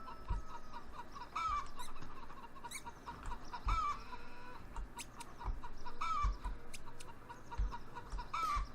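Chickens cluck and squawk at intervals in a pen over a continuous ambient bed, with occasional soft thuds, moderately close, in the video game Farming Simulator 15.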